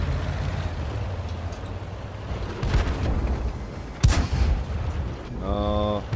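Artillery shells fire in a World of Tanks tank battle, with heavy booming blasts over constant low rumble, including a sharp loud crack midway followed by a short rapid mechanical whine near the end.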